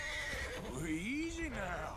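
A horse in Red Dead Redemption 2 gives a loud, wavering whinny that rises and falls over about a second, with game background sounds and a voice talking around it.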